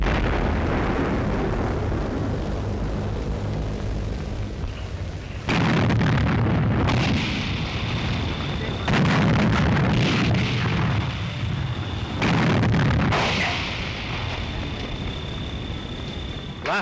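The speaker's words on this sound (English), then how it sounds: "the city under bombardment" Artillery bombardment of Warsaw in 1939, loud and near, with heavy low booms arriving as several distinct blasts over a constant rumbling roar.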